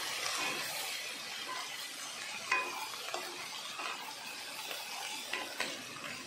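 Vegetables including cleaned small potatoes fry and sizzle in a pan, a steady close crackle broken by occasional stirring clinks and scrapes.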